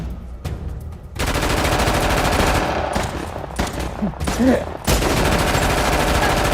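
Rapid bursts of gunfire rattle loudly and continuously, with brief pauses between volleys, like automatic weapons in the shooter game Uncharted 4.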